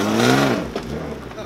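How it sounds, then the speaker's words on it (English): A lowered BMW E36 on chrome wheels drives off, its engine revving up and then easing, loud and close over a short moment, with a voice talking through it. "Carlos is gonna drive the E36 a little bit"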